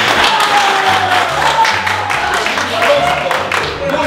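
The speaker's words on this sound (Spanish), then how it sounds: "¡Un aplauso!" A comedy show audience applauds a comedian, moderate clapping with some crowd noise over a few seconds.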